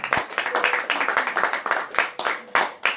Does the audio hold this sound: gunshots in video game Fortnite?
no